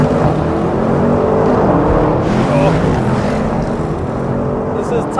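An Audi RS6 and a Mercedes E63S AMG race side by side in a standing-start quarter-mile drag race, heard from inside one car as a loud, continuous engine and road roar under acceleration.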